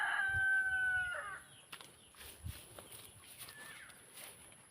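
Chickens on a small farm with hens, chicks and nesting spots, a rooster crowing loudly up close at the start followed by scattered soft clucks and chirps in the background.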